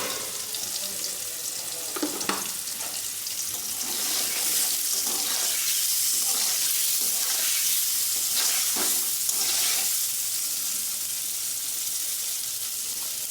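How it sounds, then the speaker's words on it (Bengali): Paneer pieces lightly frying in a pan, a loud, steady wash of sizzling oil with occasional bursts and scraping stirs, heard up close without any speech. "হালকা হালকা করে ভেজে নেবো।"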